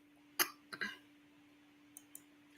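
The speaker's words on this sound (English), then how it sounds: "hold on, y'all, I got to cough again." A person coughs close by, one sharp burst and then a rougher second one, in an otherwise quiet room with a couple of faint clicks afterward.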